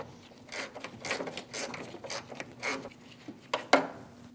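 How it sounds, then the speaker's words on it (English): Bolt being started by hand and snugged down on a hood hinge bracket of a 2001-2006 Chevrolet Silverado 2500 HD, heard as close scraping and clicking metal taps in short bursts, ending with a couple of sharper clinks. "Get the bolt started by hand and snug it down."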